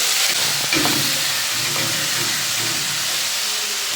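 Onions and an egg gravy mixture sauté in a pan, a constant loud hissing sizzle throughout with a few faint stirring scrapes early on and no talking.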